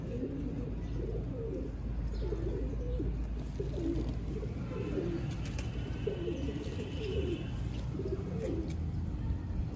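Pigeons coo in soft repeated phrases against a constant low background hum, with a few faint chirps higher up.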